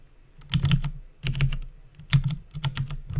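Clustered bursts of computer keyboard typing, four quick runs of key clicks separated by short pauses, close and moderately quiet with a faint low hum beneath.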